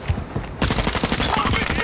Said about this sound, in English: Yep, that's him shooting.